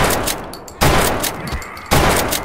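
Rapid gunfire in the Gmod video game, two loud close bursts of dense automatic shots, each starting sharply and tailing off, with no talk over them.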